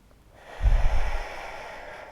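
Deep breath exhaled slowly during a guided breathing exercise, one long soft rush of air that swells and fades over about a second and a half, close and alone.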